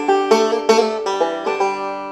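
Banjo plays a quick double pull-off lick: about half a dozen bright plucked notes in rapid succession, close and clear, ringing out at the end.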